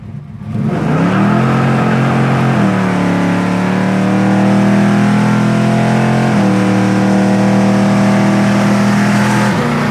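A 1971 Chevelle SS V8 pulls hard in first gear, its engine note rising steadily then dipping briefly before climbing again, loud and close with no talking.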